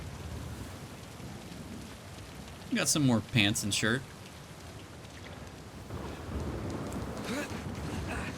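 Steady rain and distant rumbling thunder from the video game Uncharted 4 fill the background continuously, with someone talking over it in the middle.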